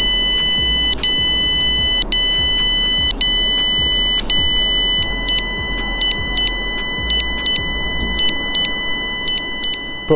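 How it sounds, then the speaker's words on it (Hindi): Find-my-buds locating beep from JBL Tune 230NC true wireless earbuds: a loud, steady high-pitched tonal beeping, repeated in regular pulses about once per second, continuous throughout with a faint low rumble beneath. "आप इधर से एक बीप साउंड प्ले कर सकते हो, जिससे ये आपके जो एयरफोन्स है वो आपको ईजिली मिल जाएँ"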